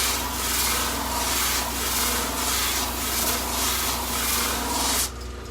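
A flap sander grinds steadily against an edge, rounding it, giving a continuous close, loud rasping whir with slight pulsing that cuts off abruptly near the end.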